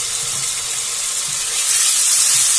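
Ginger garlic paste hitting hot oil in a pan, a steady dense sizzle that holds throughout and swells louder toward the end, close and continuous with no talk.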